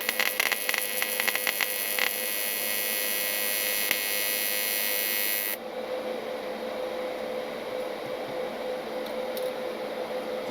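A PrimeWeld 225 AC/DC TIG welder runs an arc at 30 amps on thin metal, burning through it. A steady, close electrical buzz with a high whine holds throughout, dropping to a slightly softer, rougher tone about halfway through.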